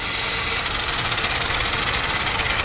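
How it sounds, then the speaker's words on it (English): A Nikko Hurricane RC car's modified motor with a racing speed controller runs steadily in low gear, a loud continuous high-pitched electric whine with a buzzy rattle close to the microphone. "Now this is the low gear. So the low gear actually has a lot more power."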